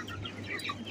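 Chickens in a broiler shed of about 3,500 birds cluck and murmur continuously as a dense, steady flock chorus with scattered higher chirps over a low background hum.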